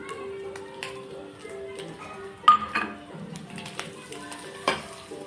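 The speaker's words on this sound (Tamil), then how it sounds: "இப்போ நல்லா கலந்து விடலாம்" Masala egg being stirred with a utensil in a pan, soft scraping and a few light clinks against the metal, with faint sizzling underneath; quiet and close, with occasional louder taps.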